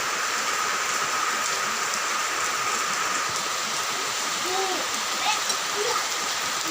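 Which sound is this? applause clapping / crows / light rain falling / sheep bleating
light rain falling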